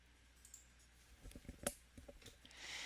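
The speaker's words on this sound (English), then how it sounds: "This time, we'll click the Browse button." A quiet computer mouse clicking the Browse button, a few soft close clicks scattered over faint room noise.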